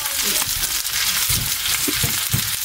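Pork humba frying in oil, a loud dense sizzle with crackling pops and occasional stirring scrapes, close up and continuous.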